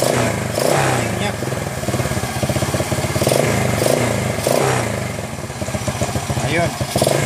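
A motorcycle engine running steadily near the listener after its battery has been charged, a continuous mid-pitched idle with slight revving swells throughout, while a person talks over it.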